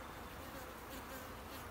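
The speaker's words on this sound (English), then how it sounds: "there is a huge cluster of bees on here" A large cluster of honey bees hums at a hive during a split inspection, a dense, steady buzzing that fills the clip evenly at a moderate distance with no talk.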